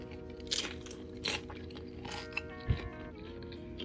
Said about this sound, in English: audio crunch.